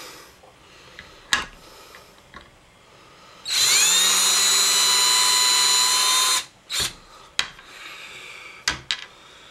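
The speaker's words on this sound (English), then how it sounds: "Take your drill." A power drill whirs loudly for about three seconds, its motor pitch steady, surrounded by scattered clicks and handling noises.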